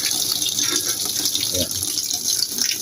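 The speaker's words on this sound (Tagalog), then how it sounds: "Buksan natin yung tubig guys. Para mag-load. Ayan, loading na guys." Water gushing into a Samsung top-load fully automatic washing machine as it begins filling, a steady close rushing stream with someone speaking briefly over it.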